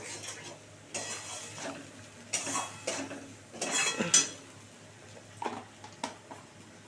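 A spoon stirs turmeric-seasoned food in a pan, scraping and clinking against the metal in irregular bursts, with a light sizzle underneath; close and moderately loud, no voices.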